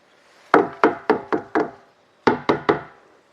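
Sharp metallic-wooden bangs struck on tins in the middle of the night to scare off snakes, five quick hits in an even rhythm, a pause, then three more, loud and close with no talking.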